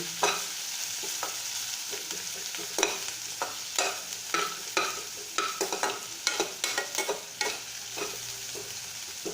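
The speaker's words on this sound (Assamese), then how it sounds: "অকণমান পিঁয়াজখন ভাজি ল'ব।" Onions fry in a medium-hot pan for a fish dish, a steady bright sizzle broken by frequent sharp clicks and scrapes of a spatula stirring, close and fairly loud throughout with no talk.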